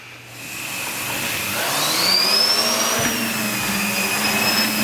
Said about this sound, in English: now we'll try my central vacuum